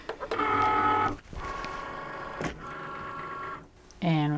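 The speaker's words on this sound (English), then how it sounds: "All right, so I'm going to load the mat." A Cricut cutting machine loads a cutting mat, giving steady mechanical whirring and humming motor tones broken by short pauses and a louder whir at the end, close and fairly loud, with no talking.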